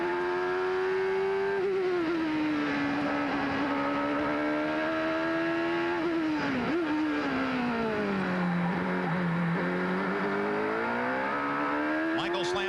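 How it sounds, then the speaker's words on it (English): Onboard a 1991 CART Indy race car heading down the hill through the corkscrew, the engine screams loudly and continuously, pitch falling through downshifts, dipping and rising again, with a commentator's voice faintly under it. "Let's just ride and listen with Michael for a moment as he comes down the hill"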